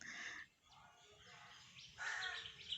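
Birds chirping around a nest in a guava tree by a house, faint high tweets and calls in a quiet outdoor setting, with a brighter burst of chirps toward the end.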